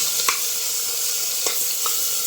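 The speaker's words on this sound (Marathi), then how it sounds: "त्यामध्ये आता आपण बारीक चिरलेला एक वाटी कांदा टाकणार आहोत तो कांदा चांगला परतवून घ्यायचा आहे" Chopped onion, about a bowlful, sautéing in a pan for Maharashtrian masala rice, with a steady broadband sizzle and a few brief spoon-stirring scrapes, close and moderately loud.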